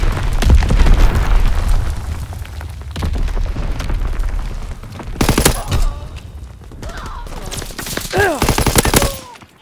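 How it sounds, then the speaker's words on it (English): Mortar rounds landing in the World War II shooter Call of Duty WW2, with loud booming blasts and rattling gunfire in bursts, followed by sharp impacts and whistling, all close and dense. "Sending mortar rounds."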